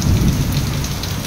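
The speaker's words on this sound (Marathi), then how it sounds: "एवढा पाऊस पडतोय बापरे" Heavy rain pours down steadily, loud and close, as a continuous dense hiss with water spilling from above like a natural waterfall into pooled water.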